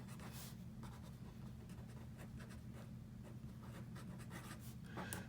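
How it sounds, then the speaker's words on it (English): Pencil scratching out notes on paper, faint soft scribbling strokes in short irregular bursts over a low steady background hum, no voices. "Let's just write it down so we have it in our notes"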